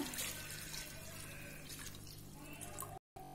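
Water runs steadily from a tap into a pot for cooking rice, a continuous splashing flow that stops abruptly near the end.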